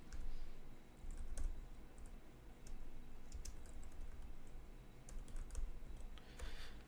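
Rapid keystrokes on a computer keyboard as a name is typed into Photoshop, a steady stream of close, light clicks with brief pauses over a low background hum.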